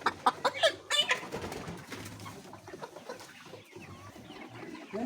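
Chickens on a poultry farm cluck and squawk close by in a quick, loud flurry at first, then settle into softer scattered clucks over a low background hum.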